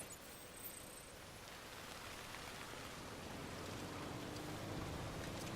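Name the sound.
heavy rain in the video game Death Stranding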